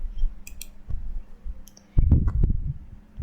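Several sharp, isolated mouse clicks apply underlining to text in Microsoft Word, with short quiet gaps between them and a louder thump of desk or handling noise near the end.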